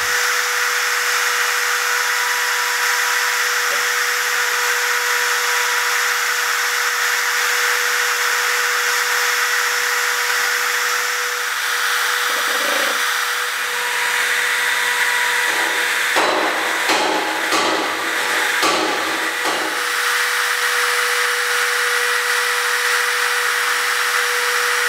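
Power tool working metal while a Subaru identification plate is being made, a steady loud machine whine running throughout with a burst of harsher grinding and rattling near the end, no talk.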